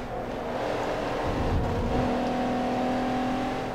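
A Toyota Celica Supra from the 1980s racing in Forza Motorsport 3, its engine holding a steady droning tone that climbs slightly, close and continuous, with no talk over it.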